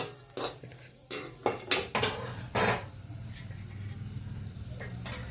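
Roasted dried coconut scooped out of a pan with a metal utensil, a cluster of clanks, scrapes and knocks in the first few seconds, then quieter with a couple of light taps.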